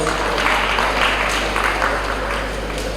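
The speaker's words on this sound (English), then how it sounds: "That also deserves a big round of applause." An audience at a schools championship finals gives a round of applause for poetry finalists: steady, dense clapping from a crowd, fairly loud and continuous throughout.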